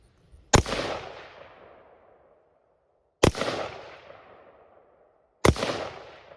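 Three loud, sharp AR-15 rifle shots fired at a cardboard target, each a crisp crack trailing into a short echo, spaced a few seconds apart outdoors.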